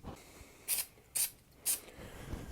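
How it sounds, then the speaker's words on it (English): Three short hissing bursts of 3M Super 77 spray adhesive lightly misted during a guitar build, evenly spaced about half a second apart, close and fairly quiet against a soft background. "I have got some 3M Super 77 spray adhesive right here. I'm going to just lightly mist this."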